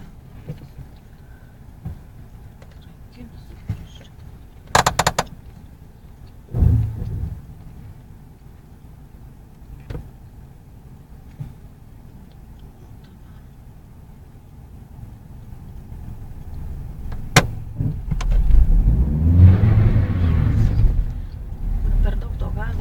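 A car engine during a driving lesson idles as a low rumble with occasional clicks and knocks, then swells into a louder, building acceleration over the last several seconds while people talk in the cabin.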